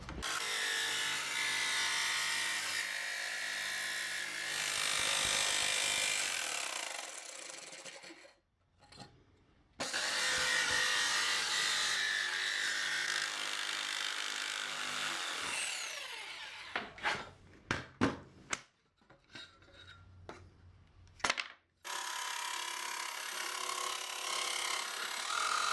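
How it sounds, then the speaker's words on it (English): Aluminum diamond plate being cut with a power tool, long loud grinding and rasping passes broken by short pauses and a cluster of quick bursts, with no talking. "Now I'm going to cut the diamond plate, and I found the best way is to keep it very secure when cutting it."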